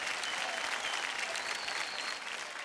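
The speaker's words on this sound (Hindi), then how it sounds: "जोरदार तालियां हमारे दोनों सुपरस्टार्स के लिए।" Dense, steady applause from an audience at a Bhojpuri film award show, greeting two star performers; a continuous wash of many hands clapping at moderate distance without a break.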